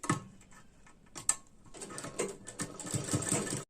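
A sewing machine stitches a blouse corner in short bursts of fast ticking needle strokes, faint and close, with brief pauses between runs.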